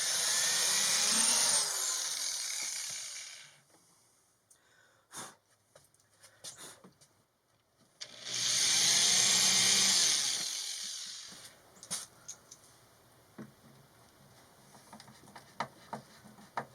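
A power drill drives single screws to temporarily fix a window sill in place, with two loud whirring bursts of driving, one at the start and one in the middle, separated by quieter handling clatter.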